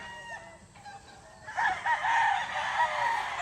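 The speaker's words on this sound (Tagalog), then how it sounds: "May manok eh. Itong sabong yan eh." A rooster crows from a short distance, its call rising loud after a brief quieter stretch of faint farmyard background.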